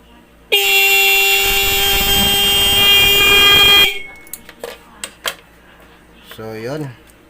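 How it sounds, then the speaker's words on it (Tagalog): A repaired stock car horn blares in one loud, steady, unbroken tone for about three seconds, then cuts off, followed by faint clicks, handling noises and brief speech. "tumunog na yung ating busina"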